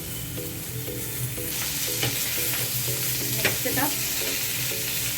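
Boiled potatoes and spices fry in a pan with a loud, steady sizzle, while a utensil stirs and scrapes them in repeated ticks and clacks close by. A voice speaks a few brief words.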